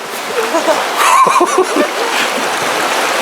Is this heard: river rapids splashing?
yes